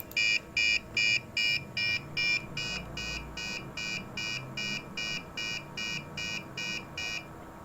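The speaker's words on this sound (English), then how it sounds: "The alarm will ring for 30 seconds." Alarm from a COVID-19 ward monitoring system sounding a steady series of short, evenly spaced electronic buzzer beeps, about sixteen in a row, loud and close, the first few strongest before settling slightly quieter.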